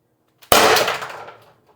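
A single sharp report from a Byrna LE launcher firing 4.6g ammo, a loud, close crack with a short ringing tail that fades within about a second, preceded by a faint click.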